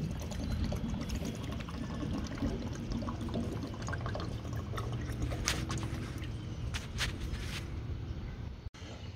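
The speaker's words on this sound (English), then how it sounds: "And we're gonna put this in the tank like it says" Sea Foam motor treatment poured into the fuel tank of a 2003 Ford F150, a steady close liquid glugging and trickling that runs throughout, with a brief break near the end.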